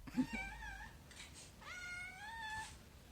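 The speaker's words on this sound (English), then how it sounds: "I will edit in sounds of them meowing for you." Kittens meowing: two drawn-out, high, wavering meows, the second longer and rising, heard close and fairly quiet with a soft thump at the start.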